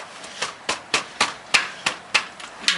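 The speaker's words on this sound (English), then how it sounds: "wrench and get this nut off." A 15mm wrench working a nut under a 2014 Toyota Corolla during an oil change, giving a close, evenly spaced series of about nine sharp metallic ratcheting clicks of steady loudness, with no voices.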